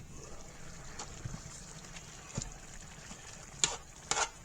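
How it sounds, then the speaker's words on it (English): Chicken rigatoni stirred in a hot pan, soft scraping and gentle wet shuffling at close range, ending in a couple of sharper clinks of the utensil against the pan. "give this a quick little stir"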